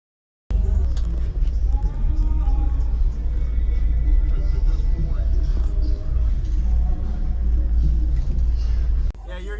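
Pair of 18 inch subwoofers pounding out deep, rumbling bass that reaches down to 15 Hz, loud and continuous at close range for about nine seconds before cutting off abruptly near the end.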